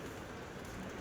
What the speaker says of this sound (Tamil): மழை வேற வந்துட்டே இருக்கு.